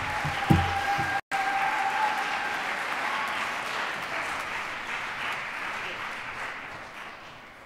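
An audience in a school awards chapel for fall sports teams applauds steadily, a dense wash of clapping that slowly fades across several seconds after a brief sharp knock near the start.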